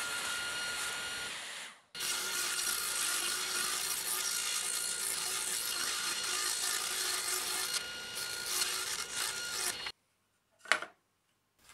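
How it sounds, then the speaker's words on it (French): Radial saw cutting through wooden pallet planks, a loud steady whining cut lasting about eight seconds that stops abruptly, followed by a brief clack of wood in near silence. "La planche à découper est placée sur la scie radiale"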